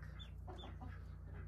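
A mother duck gives a few short, squeaky quacks at close range, set over a steady low hum, with no other voices present.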